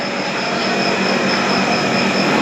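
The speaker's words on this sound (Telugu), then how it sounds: "సో నేను అయోధ్యకి వచ్చిన ట్రైన్ ఇది లక్నో చాప్రా" The Lucknow–Chhapra passenger train at Ayodhya Dham station, a loud, close, continuous rolling roar of wheels on rails with a faint metallic whine, no voices.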